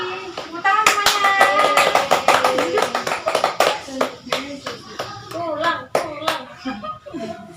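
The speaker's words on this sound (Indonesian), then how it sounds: "Tepuk tangan semuanya." Schoolchildren in a classroom clap together, with sharp irregular handclaps close by over several seconds, mixed with children's voices and talk.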